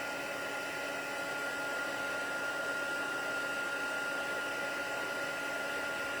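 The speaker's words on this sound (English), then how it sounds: "This is the Stampin' Up heat tool, and I set it to number 2." A Stampin' Up heat tool set to level 2 blows hot air for embossing on paper, a steady, even whirring hiss of fan and air that holds unchanged throughout.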